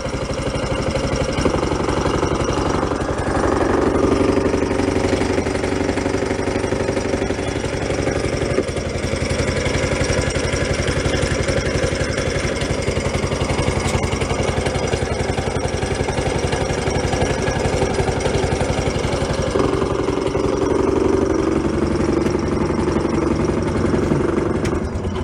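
A Beaver amphibious vehicle's small engine runs steadily and close by, with a loud, rough, knocking idle throughout while debris blown out of the muffler burns off; the chugging stays even with slight swells in tone.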